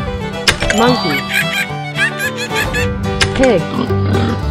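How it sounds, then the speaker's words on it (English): A cartoonish pig oinks several times in a 3D animal slide video game, loud and up front, mixed with bright musical game effects and a voice announcing animals. "Pig."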